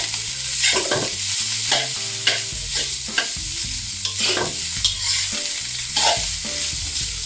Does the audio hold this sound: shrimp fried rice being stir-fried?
yes